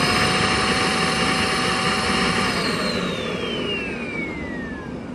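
A Shark Navigator upright vacuum cleaner with a clog roars loudly and close, its motor whine holding steady and then sliding down in pitch as the strained airflow changes.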